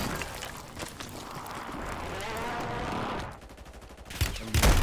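Gunfire rattles through a Call of Duty Resurgence match, dense bursts carrying for about three seconds before easing off, then a louder close burst at the end.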